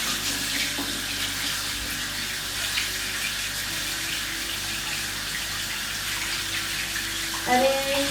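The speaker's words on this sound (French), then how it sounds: "Je vais prendre de l'eau un peu" Lukewarm tap water runs steadily into a basin, a continuous close splashing rush that holds even throughout, with a brief clink near the end.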